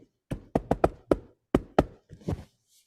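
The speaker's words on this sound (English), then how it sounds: "I'm going to knock again." Knuckles rap on a door in several crisp, close knocks, a quick run of five and then two more, with a faint shuffle at the end.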